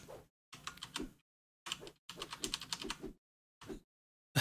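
Computer keyboard keys pressed in quick bursts of clicky taps, close and fairly quiet, with short silent gaps between groups as someone tries out arrow-key and letter controls for a game.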